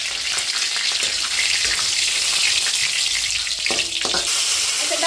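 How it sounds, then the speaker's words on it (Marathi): Curry leaves sizzle loudly in hot oil already tempered with cumin seeds, a steady, close crackle of frying with faint stirring and no voices. "जिरे चांगले तडकले. आता त्याच्यात टाकायचं आहे कढीपत्ता."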